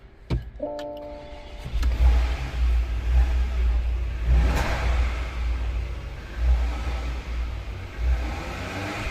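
Porsche Macan engine starting after a jump start from a flat battery: a brief cranking burst and click-like tones, then a low steady idle rumble with small surges, close and moderately loud, no talk.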